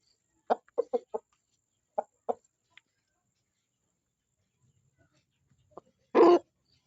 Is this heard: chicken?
yes